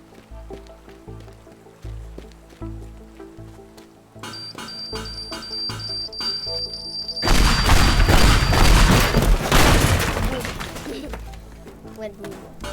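A bomb detonates in the demolition game Teardown, a sudden loud blast at the midpoint that gives way to a long, dense roar of crumbling debris and rumble, after quieter clattering and game sounds earlier.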